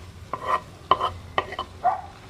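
Onion and garlic sautéing in a pan, soft sizzling with several distinct scraping stirs of a utensil, close and clear with no voices.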